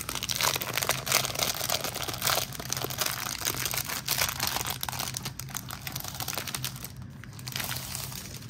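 A paper pad package being opened, its plastic wrapper crinkling and crackling steadily for several seconds at close range, with no talk.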